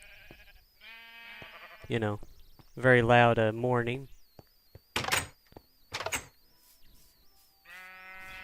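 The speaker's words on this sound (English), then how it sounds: "Sheep, why are you so loud?" Sheep bleat loudly in modded Minecraft, several drawn-out wavering calls near and clear, interspersed with blocky thunks and door-like clicks, and someone speaks briefly between the bleats.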